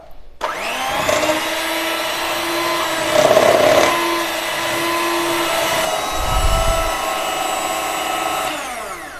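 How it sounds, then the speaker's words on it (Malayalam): An electric beater whips 200 ml of whipping cream in a bowl at home, giving a loud, steady motor whine that shifts pitch and grows rougher as the beaters churn, running alone with no talk. "വിപ്പിംഗ് ക്രീം നന്നായിട്ടൊന്ന് ബീറ്റ് ചെയ്തെടുക്കാം."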